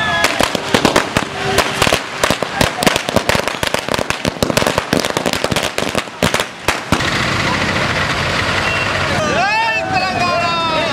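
Firecrackers burst in rapid, irregular volleys at a street celebration outside a bus depot, loud and close, giving way to a noisy crowd and passing traffic with a horn or siren sweep near the end.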